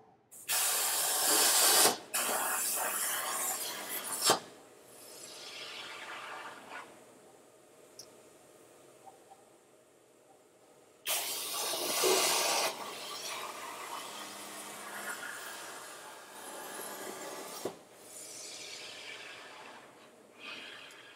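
A CNC plasma cutter running: steady hiss of flowing air with bursts of loud rushing and scraping noise as the head moves, mechanical and continuous, no voices.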